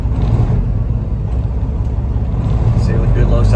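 A 2015 Peterbilt 389 factory-built glider truck idles with a deep, loud, steady diesel rumble, smooth and unbroken throughout.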